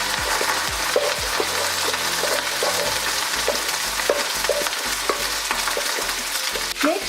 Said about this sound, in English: Let it boil the oil, because you're frying the rice